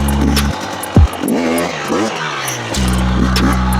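A new motorcycle being warmed up, its engine idling loudly up close, then revving up and down in a few sweeping bursts before settling back to a steady idle.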